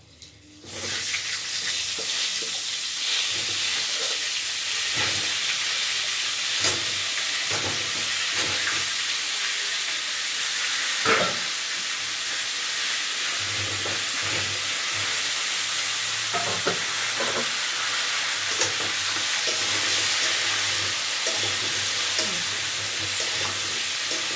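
Wet, chopped ivy gourd frying in hot oil in a home kitchen: a steady, close sizzle with scattered sharp spattering pops and occasional stirring, continuous throughout.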